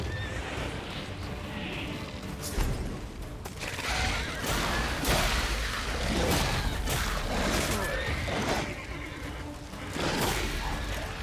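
Geralt's horse Roach in The Witcher 3 video game whinnies amid a busy game soundscape of hoof clip-clops, thuds and combat clatter, with a voice heard intermittently over the stretch.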